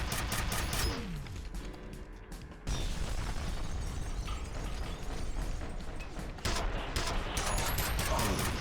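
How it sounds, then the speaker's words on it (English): A grenade blast in the shooter game FEAR Perseus Mandate, heavy booming bursts and dense gunfire-like crackle filling the whole stretch, with a loud surge near the end. "Look out, grenade."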